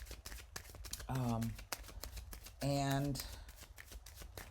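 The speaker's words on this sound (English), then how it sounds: "I'm going to put another shuffle on these." A deck of tarot cards is shuffled by hand in two bursts of fast riffling flutter, close and crisp, while someone talks over and between them.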